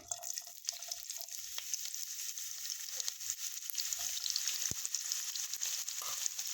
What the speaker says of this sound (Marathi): तेल गरम झाल्यानंतर फोडणीसाठी कांदा घालायचा आहे